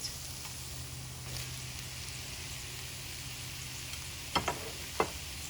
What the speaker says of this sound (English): The garlic cook in there with the veggies for about 5 minutes. Toss back in our meat.